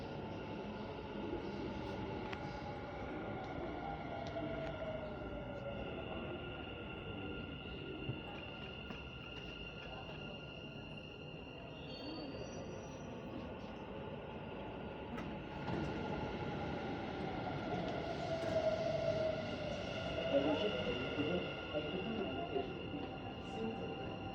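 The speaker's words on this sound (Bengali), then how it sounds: "ওই যে ট্রেন চলে আসে।" A Dubai Metro train arriving at a station platform, a low rumbling approach with humming electric motor tones and rising noise toward the end, heard from the platform amid faint ambient voices.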